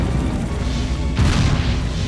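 A tank exploding in Destroy All Humans!, a loud, close booming blast that swells midway through and rolls out in a dense, rumbling roar.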